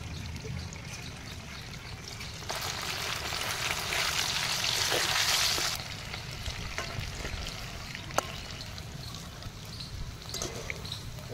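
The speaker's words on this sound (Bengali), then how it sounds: "আমি এবার তেল গরম হয়ে গেছে, এগুলো ভেজে নেব।" Marinated chicken pieces for a Chinese-style chicken star dish fry in hot oil, a steady soft sizzle that swells louder for a few seconds midway before settling back to a low, even crackle, with a single sharp click near the end.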